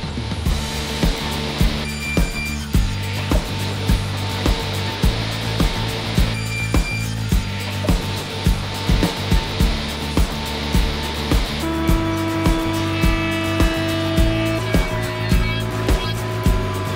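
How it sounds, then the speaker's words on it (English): A power saw cuts plywood and beechwood in a woodwork shop, a loud, continuous whining drone with rapid rhythmic chatter, shifting pitch partway through as the cut changes. "So first I needed to cut the plywood to size and plate the beechwood to the needed dimensions."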